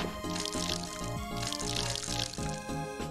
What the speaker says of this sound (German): Jetzt gießen wir kurz mal alles.